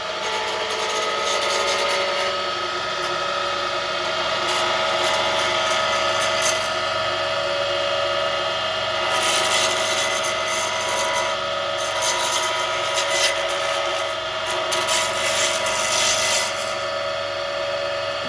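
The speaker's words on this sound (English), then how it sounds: "We'll use our roughing gouge now and we'll keep going." A roughing gouge cuts an acrylic pen blank spinning on a lathe, giving a steady, close scraping hiss over the motor's hum, with brief harsher bursts partway through.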